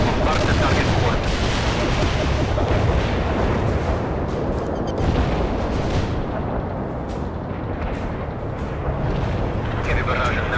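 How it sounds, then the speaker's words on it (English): A heavy artillery barrage in the World in Conflict strategy game: continuous loud rumbling explosions and booms layered into a dense roar lasting the whole stretch, with radio-style voices speaking over it. "Heavy barrage annihilated the enemy at the coordinates. Artillery strike completed."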